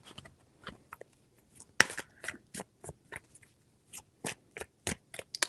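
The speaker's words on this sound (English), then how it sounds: "Three shuffles." Tarot cards being shuffled by hand, a string of soft, crisp riffling taps and brushes in close, quiet surroundings with no voice.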